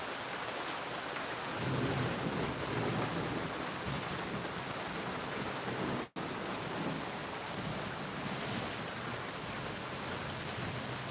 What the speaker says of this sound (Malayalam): ഇതുണ്ടോ നല്ല മഴ കേട്ടോ നല്ല ഇടി മിന്നലൊക്കെ ആണ്